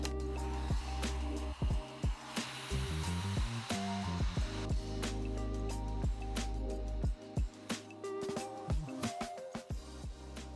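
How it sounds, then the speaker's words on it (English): Hair dryer running on its cold-air setting, a steady close whoosh of blowing air that continues throughout under scattered small clicks and handling noises. "I still need to do the blast of cold air though, so I'm gonna turn this on, hit the button for the cold air."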